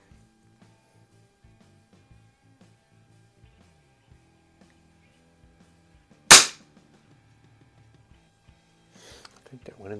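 Weihrauch HW50S springer air rifle fitted with a red dot sight fired at a target, a single sharp close crack standing alone amid near silence, followed later by faint handling noises.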